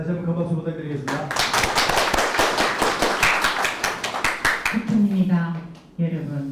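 Dense burst of audience clapping at a lecture-hall talk, loud and sustained for several seconds with a speaking voice before and after.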